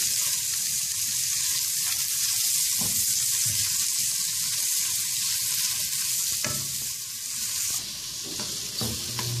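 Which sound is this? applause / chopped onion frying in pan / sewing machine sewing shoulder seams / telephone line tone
chopped onion frying in pan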